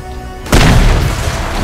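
In the video game Crysis, a quiet lull breaks into a sudden loud hand grenade explosion boom, followed by a rumbling, crackling decay.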